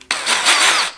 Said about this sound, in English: re-drilling them and we're going to re-peg them